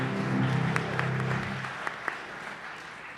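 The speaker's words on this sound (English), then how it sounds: "Applause to them." An audience at a startup pitch event gives brief applause, dense clapping that swells and then fades out within a few seconds.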